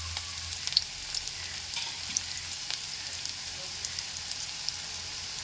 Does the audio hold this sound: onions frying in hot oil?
yes